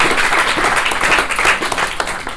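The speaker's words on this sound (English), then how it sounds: "Let's give Richard another round of applause" Round of audience applause after a talk at an urban ecology event, dense steady clapping from a room full of people.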